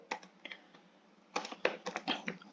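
Irregular clusters of light clicks from a computer keyboard as C++ code is typed, a sparse few keystrokes followed by a denser, faster burst.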